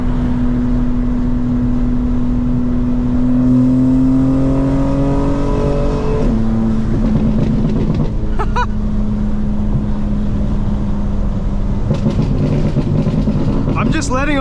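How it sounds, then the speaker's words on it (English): A tuned 2025 BMW M4 Competition xDrive on the move in fifth gear at about 73 mph rises in a loud, steady engine drone, then lifts off the throttle into crackling, popping exhaust burble; a voice speaks briefly over it. "Letting off the gas there, and I'm in 5th gear at 73 miles per hour, and that's how much burble there is."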